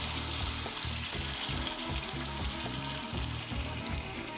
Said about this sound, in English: We're gonna pour in our chili sauce, and we're gonna fry it just for a few minutes.